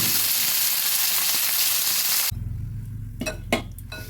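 Chapila fish fry in oil in a kadai with a dense, loud hissing sizzle that drops abruptly to a quieter crackle, followed by a few clinks and scrapes of a utensil turning the pieces.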